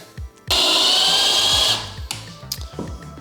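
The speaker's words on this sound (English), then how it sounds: "I just realized my drill isn't even long enough to go through." A power drill bores into a wall in one loud, steady burst of about a second, with faint rhythmic background music beneath it and short clicks afterward.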